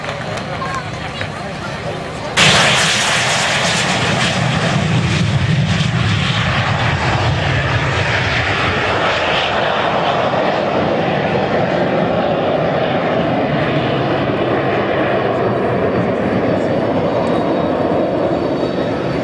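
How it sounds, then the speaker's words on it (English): A Harrier jet starts its display at an air show, its engine roaring up suddenly and holding a loud, broad, sustained blast, with a crowd murmuring underneath. "Now also rolling down the runway from the right is the Harrier that we were going to see earlier. This is going to be a very noisy display"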